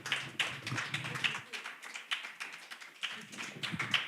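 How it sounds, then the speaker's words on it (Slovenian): An audience applauding at a poetry slam evening of a Ljubljana poetry festival: a scattered, fairly quiet round of hand claps, mostly steady with small swells, and no voices on top. "Aplavz!"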